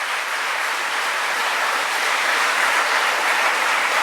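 Audience applause from a crowd at a talk, a dense, even roar of clapping that holds steady and loud throughout, with no speech over it.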